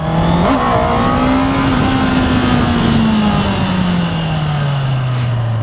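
A Honda CBR650R E-Clutch motorcycle engine revs and accelerates, its pitch climbing and then dropping as it shifts gears quickly, close and continuous with no voices.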